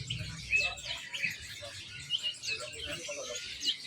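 Many caged birds chirp and tweet together at a bird market, a faint, continuous tangle of high calls with low background bustle.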